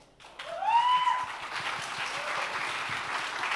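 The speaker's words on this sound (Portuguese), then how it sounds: "Salva de palmas para Dani" An audience at a PHP community summit talk applauds a speaker, a burst of clapping rising quickly and continuing steadily, with a brief voice at the start.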